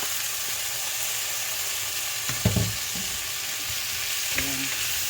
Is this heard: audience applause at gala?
no